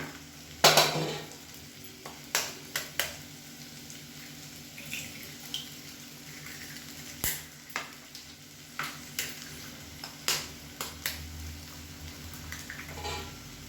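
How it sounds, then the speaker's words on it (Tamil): Two eggs are broken into a hot pan beside onions and stirred with a spoon. The oil sizzles and crackles underneath, and sharp scrapes and clinks of the utensil land at irregular intervals. "ஒதுக்கி விட்டுட்டு ஒரு 2 முட்டை உடச்சி ஊற்றிக்கலாம்"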